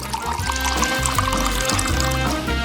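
Melted chocolate is poured into a glass, a continuous liquid pour lasting the whole moment, fairly loud and close over a steady background.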